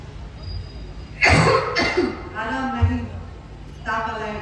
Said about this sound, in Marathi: त्यामुळे जरा ठसका लागला खोकला येतो